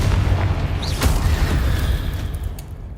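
In Hogwarts Legacy, a Confringo spell explodes in a loud, deep, rumbling boom with a sharp crack near the start and a sustained roar that slowly fades.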